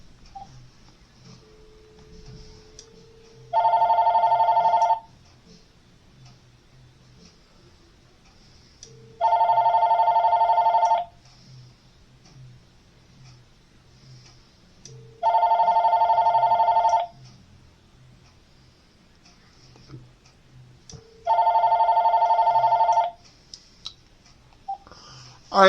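A VTech cordless phone rings in four evenly spaced electronic bursts of trilling tone, each about a second and a half long and separated by quiet pauses, close and clear with no talking.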